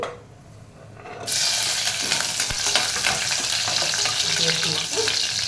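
Onions go into hot oil with whole spices and cashews for paneer pulao. A loud hiss erupts suddenly and settles into a steady, close sizzle with occasional stirring.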